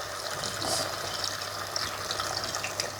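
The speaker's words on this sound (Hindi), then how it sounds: "अब हम इसमें अपनी मर्ज़ी के मुताबिक पानी शामिल कर देंगे।" Water is poured into a pot of Punjabi-style chicken arvi (taro) curry, producing a steady, close rushing splash that continues evenly for about three seconds with no talking.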